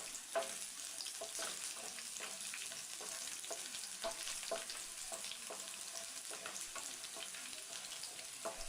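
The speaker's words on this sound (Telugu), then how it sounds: "పచ్చిశనగపప్పును కూడా వేసుకుని ఒకసారి బాగా కలుపుకోవాలి." Garlic and chana dal fry in a pan with a soft, continuous sizzle, broken by repeated scraping strokes as they are stirred, close and fairly quiet without talk.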